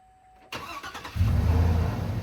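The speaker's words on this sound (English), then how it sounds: "The truck's running now." A 2010 Chevy 6.0L truck engine, just repaired after a camshaft position sensor fix, cranks and catches at about half a second, then settles into a loud, steady idle with a strong low rumble that holds to the end.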